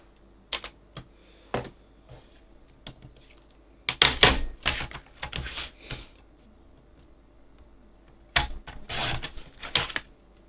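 Paper card panels being trimmed for a papercraft project, with a run of quick, close snips and slides from a paper trimmer in bursts separated by brief pauses and no talk.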